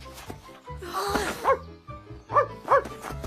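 A dog in a French children's story barks several times in short, close bursts over a musical background.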